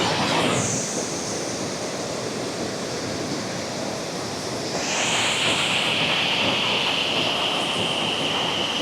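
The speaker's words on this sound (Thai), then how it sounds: "มันคือน้ำตกตาดที่แสนงามน้ำนี่ไหลมาจากเวียดนาม" Tad Sadi waterfall, a scenic cascade whose water flows from Vietnam, gives a steady, dense rush of falling water that holds unbroken throughout and swells slightly louder partway through, with no voices.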